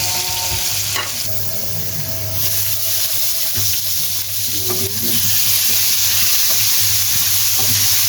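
Marinated country chicken fries loudly in a pan of hot oil, a continuous close sizzle broken by scraping stirs and a few clinks of the spatula, with no voices.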